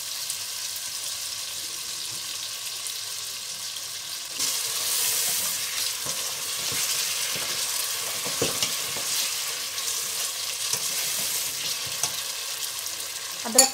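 Masala sizzles steadily in a pan for a mutton yakhni pulao, a continuous close frying hiss with scattered stirring scrapes and a slight swell partway through, and no talking.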